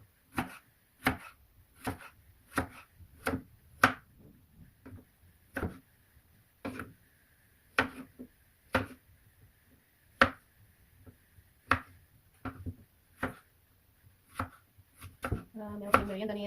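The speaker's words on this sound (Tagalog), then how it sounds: "Hiwain natin yung patatas ng pahaba." Knife chopping potatoes lengthwise into fries on a board, sharp isolated thunks in an uneven rhythm of about twenty cuts, close and clear, with a brief voice at the very end.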